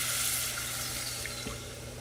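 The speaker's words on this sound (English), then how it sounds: "Then we're gonna go ahead and add 3/4 cup of water." Water pours steadily from a tap or measuring cup into a pot of toasted turmeric rice, a constant hissing, splashing rush that gradually eases, with no talking.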